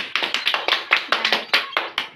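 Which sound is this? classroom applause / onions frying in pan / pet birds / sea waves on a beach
classroom applause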